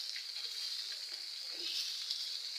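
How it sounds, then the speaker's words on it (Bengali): Rui fish frying in a pan for a home-style bhuna, giving a steady, continuous hiss of hot oil at moderate level with no talking, and a faint clatter partway through. "এই যে মাছটা ভাজা বসাই দিচ্ছি"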